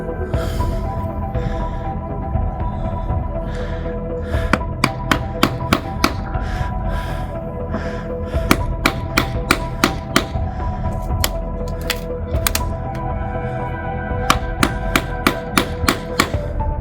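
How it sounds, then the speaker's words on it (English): A hammer repeatedly strikes a chisel to cut metal during a vessel salvage job. The sharp, loud metallic blows come in irregular clusters, close by, after a few quieter seconds at the start. "Don't bend the chisel, just take it out and have another cut slightly above it."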